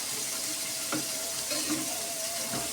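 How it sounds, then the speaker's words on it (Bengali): Chicken kosha sizzles in a pan, a dense continuous hiss close to the listener with a few soft scraping strokes as the meat is stirred. "আর একটু নেড়ে দিব।"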